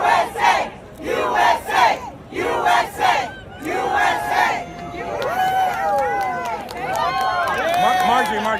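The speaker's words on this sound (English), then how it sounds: "This is a look at the crowd that was outside." A large crowd gathered outside Madison Square Garden in New York City for a Trump rally, chanting in loud rhythmic bursts before breaking into sustained cheering, whistles and shouts.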